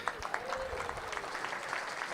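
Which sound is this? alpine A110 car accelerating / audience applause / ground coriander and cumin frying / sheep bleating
audience applause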